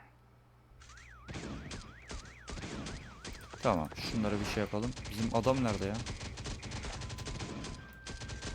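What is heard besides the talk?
car alarm going off in Last Day on Earth video game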